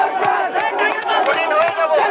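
Protesting students shout slogans together in a crowd, many voices raised in loud rhythmic bursts and chanting, close and continuous.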